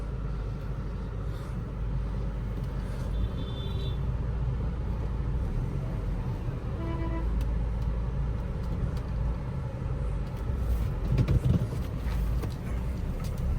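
A car engine idling after its exhaust cutout was removed, a low steady rumble that stays even and quiet throughout with faint background noise and no speech.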